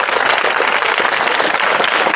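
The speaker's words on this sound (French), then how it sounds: "On applaudit vous." Pupils at an outdoor school flag-raising ceremony clap in a sustained, even burst of group applause, many hands at once, close and loud from start to finish.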